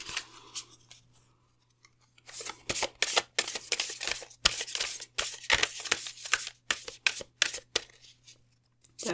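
Rapid riffling and slapping of tarot cards being shuffled in bursts, with short pauses between shuffles, close and fairly quiet.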